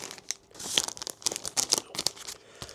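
Small plastic bags crinkling and rustling as they are handled, a close series of sharp crackles and soft scrapes in quick irregular bursts, with no talk.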